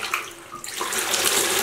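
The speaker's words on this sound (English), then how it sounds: "I'm gonna go ahead and rinse these a few times" Water pours and splashes as dyed wool yarn is rinsed, starting with a few lighter trickles and swelling into a steady, close rush of running water like a tap filling a basin, with no talking.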